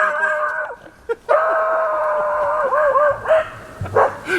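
A dog at an outdoor day camp gives a run of close, drawn-out whining barks and yips with a howl-like wavering pitch, broken by a few short pauses.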